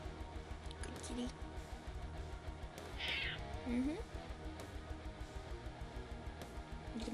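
A pet cat meowing indoors, two or three short, close, moderately loud meows amid quiet room noise, while a person murmurs softly nearby.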